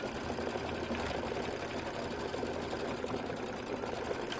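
An embroidery machine stitches decorative quilting on a gather block and inner border, running as a loud, steady, rapid mechanical whir with no pauses.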